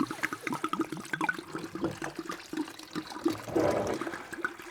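Homemade ruby port mixture is poured back into a bottle, giving a faint, uneven gurgling trickle of liquid that swells near the end.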